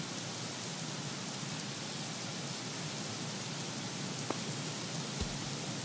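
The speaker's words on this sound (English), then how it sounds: "It's raining." Steady video game rain pours down in a continuous broadband hiss, even and unbroken, with a couple of faint brief clicks near the end.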